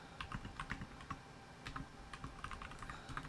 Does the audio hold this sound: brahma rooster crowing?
no